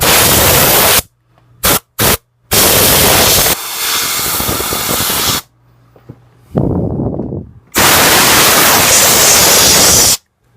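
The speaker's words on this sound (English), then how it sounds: "let me see now if I have any canned air" Loud bursts of canned compressed air hiss while cleaning a Magnavox Odyssey 2 console, several short and long sprays separated by silences, harsh and close.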